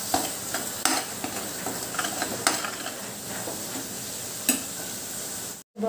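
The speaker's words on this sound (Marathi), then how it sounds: "1 मिनिट आपल्याला चांगलं परतून घ्यायचं आहे कमी फ्लेमवर." A coconut and onion paste for a green moong dal curry sautés in a pan over low flame, giving a close, steady sizzle with sharp scraping stirs every second or so, ending in a short silence.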